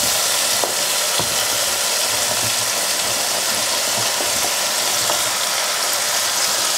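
Chopped onions, garlic and leeks fry in a pot for a one-pot chicken stew with pancetta and beans: a steady, loud, close sizzle with scattered small pops and crackles throughout.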